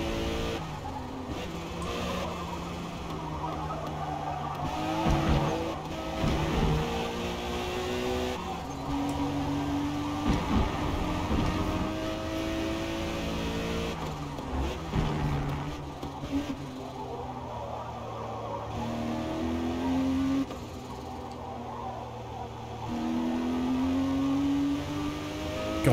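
Ford GT in the racing video game Forza Motorsport, its engine revving steadily through gear changes with rising and falling pitch sweeps, continuous and fairly loud, with no talk over it.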